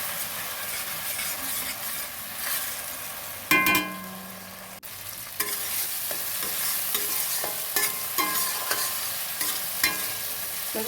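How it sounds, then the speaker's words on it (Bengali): Spices with ginger and garlic stir-fried for a duck egg curry, with a little water added, a sharp burst of hissing steam followed by steady sizzling and rhythmic spatula scrapes, close and without speech. "খুব সুন্দর করে আমি কষবো, সামান্য একটু জল দেবো, দিয়ে ভালো করে কষবো যাতে আদা রসুনের যে গন্ধটা সেটা না থাকে।"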